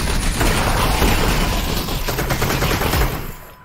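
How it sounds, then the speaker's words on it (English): A grenade blast in the VR game Half-Life: Alyx, a loud, dense rumbling explosion mixed with gunfire that fills the whole stretch and then fades out at the end. "Yep, someone threw a grenade"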